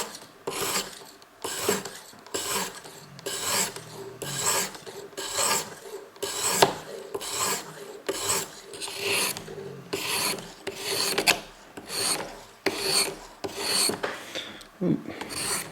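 A knife blade is drawn over the stone of a ViperSharp sharpening system in a steady run of about twenty short, rasping strokes, close and clear, with brief pauses between passes.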